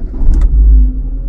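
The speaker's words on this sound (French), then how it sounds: "Ensuite on peut démarrer la voiture." A cold car's engine starts up close by: a deep, steady low rumble with a couple of short clicks near the beginning, lasting just over a second.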